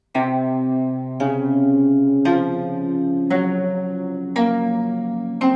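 A slow plucked-string melody in a dark Japanese Iwato mode, five ringing notes evenly spaced, each decaying before the next, played alone.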